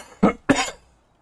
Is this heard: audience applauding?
no